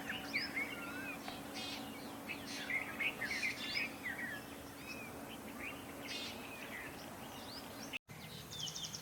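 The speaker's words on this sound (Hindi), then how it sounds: "ऊपर कौन सा पक्षी है पता नहीं, पर वो मुझसे बच रहा है।" A wild bird chirps repeatedly overhead from a broken tree trunk outdoors after light rain, its bright tweets coming in short bursts over steady background hum and faint insect noise.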